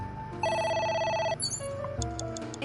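Electronic telephone ringing in the video game AI: The Somnium Files, a steady repeated tone pattern, loud and close, backed by game music with no talk.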